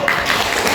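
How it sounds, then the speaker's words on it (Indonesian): Applause from a class of students in an Indonesian classroom lesson, a short burst of dense clapping, close and fairly loud, with no talk over it. "Tepuk tangan."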